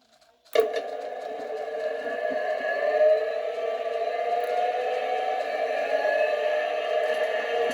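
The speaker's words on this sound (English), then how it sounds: "Do some engine startup here." A 1/16-scale 3D printed RC Nashorn tank's simulated engine sound starts abruptly after a moment of near silence, then settles into a steady droning, buzzing idle with tonal hum that holds at an even level throughout.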